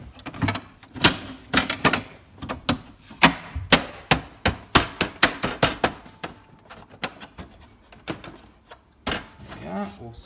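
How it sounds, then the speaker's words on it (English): Plastic parts of a Melitta Caffeo Barista TS coffee machine are slid into place and clipped down by hand, making a rapid run of sharp clicks and knocks close by, with talk over them. "slide this into place and then clip the sides down"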